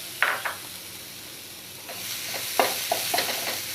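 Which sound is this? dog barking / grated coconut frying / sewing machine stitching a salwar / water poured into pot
grated coconut frying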